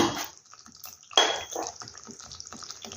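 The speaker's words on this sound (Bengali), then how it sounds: "মশলা দেওয়া বাটি দিয়ে আমি জলটা দিয়ে দিচ্ছি" Water is poured from a spice bowl into a cooking pot in short splashing bursts, fairly close and moderately quiet, with small clinks between pours.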